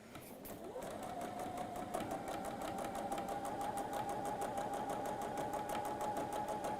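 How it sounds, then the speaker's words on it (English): A sewing machine stitches quilt fabric, a quarter inch either side of a marked line, in one steady, fast, continuous run that starts after a brief pause, with faint talk at the very start. "we're sewing 1/4 inch either side of this line"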